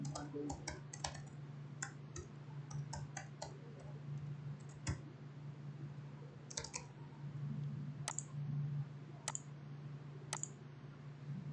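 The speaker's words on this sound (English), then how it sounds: "I'm typing" Typing on a computer keyboard, with quick irregular clicks and taps in bursts, close and fairly quiet over a steady low hum.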